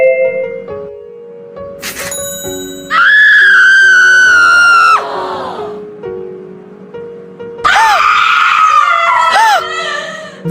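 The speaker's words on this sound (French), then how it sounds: "D'où sort des tels cris?" Loud, sustained screams erupt in an animated scene, one long cry followed after a pause by a second shrill burst, over quieter background sounds and ringing tones.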